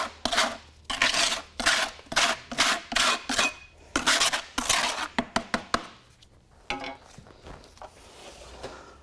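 Repeated rough scraping strokes of a tool against the sides of a container holding a GFRC (glass-fibre reinforced concrete) casting blend, close and fairly loud, in a steady rhythm of about a dozen rasping passes that slow and fade toward the end.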